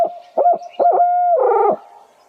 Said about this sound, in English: He's gobbling. He's cutting you off.